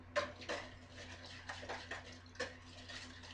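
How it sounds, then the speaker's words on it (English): Egg and vegetable oil are whisked together in a bowl, a quick run of light, wet scraping strokes with soft clinks against the bowl, close and fairly quiet. "1 whole egg, and 1/2 cup of vegetable oil. Now we're going to whisk that together."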